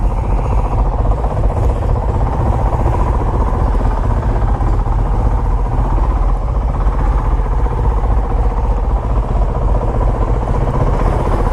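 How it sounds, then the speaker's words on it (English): A 2019 Honda CRF450L dual-sport motorcycle engine drones steadily while riding, a loud, continuous rumble with mechanical clatter sitting close to the rider for the whole stretch. "Norm, this is one cool motorcycle."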